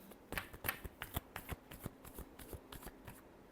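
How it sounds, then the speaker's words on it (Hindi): Tarot cards are shuffled close up in a quiet room, a rapid sequence of soft papery flicks and riffles with an uneven rhythm. "Last shuffle."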